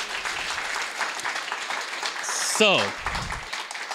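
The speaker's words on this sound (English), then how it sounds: "Give another round of applause for Mia." Applause from the audience at an Asian American storytelling show, a steady patter of clapping with a voice speaking briefly near the end as the clapping continues.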